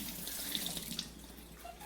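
Tap water streams into a kitchen sink, rinsing freshly peeled potatoes, a soft continuous splashing rush with small clinks, close but fairly quiet.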